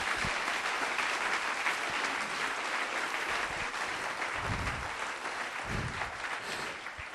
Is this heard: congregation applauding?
yes